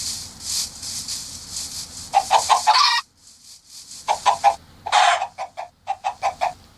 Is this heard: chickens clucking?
yes